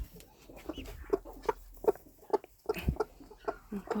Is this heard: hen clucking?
yes